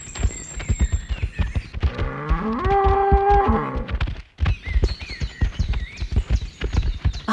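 A cartoon buffalo moos while searching for her missing calves, one long, wavering call in the middle, surrounded by clopping hoof-like steps and busy farmyard sounds.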